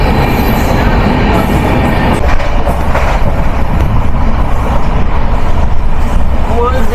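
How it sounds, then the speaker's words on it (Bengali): Train speeding up on the railway, heard from inside as a loud, continuous rumble with rhythmic clatter of wheels on track and a faint squeal near the end. "এই যে দেখুন ট্রেন আবার স্পিড নিয়ে নিল"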